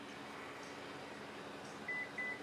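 Two short, high electronic beeps from a car's power programmable liftgate setting its height, near the end, evenly spaced, over a steady low hum.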